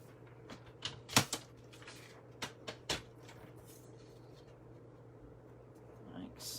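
Cardstock pieces for a handmade card cut into small squares, several crisp cutting snaps and clicks spaced irregularly, close and fairly quiet over a low steady hum.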